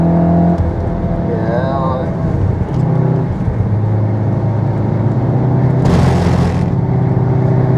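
Stage 3 Golf R driven on track at full throttle while in limp mode, a steady loud engine drone with road and wind noise, shifting in pitch, with a burst of broadband rush near the end; voices are heard briefly.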